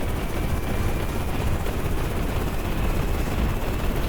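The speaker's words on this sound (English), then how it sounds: "the chopper will take fire in a second" A helicopter flies near an aircraft carrier in an ocean-planet video game, its steady rotor and engine rumble droning loudly and evenly with no speech over it.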